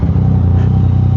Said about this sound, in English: I rev this guy a lot